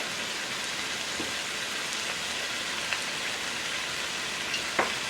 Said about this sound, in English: I'm going to follow up with the top stems of the Jamaican callaloo and the Swiss chard.